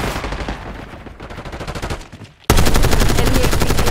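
Rapid automatic gunfire in Call of Duty Black Ops 6, loud rattling bursts that build, drop briefly, then return as a heavier, denser volley.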